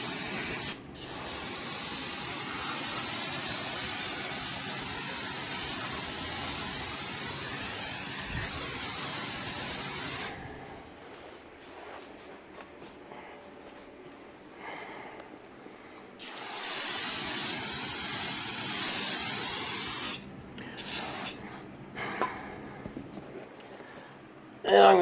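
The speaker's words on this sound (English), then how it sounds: "I'm going to hose it down with brake clean just to make sure it's nice and clean" Brake cleaner is sprayed on a Ford 428 engine block and crankshaft for a 1964 Galaxie 500. Loud, close, hissing bursts lasting several seconds each are separated by quieter gaps.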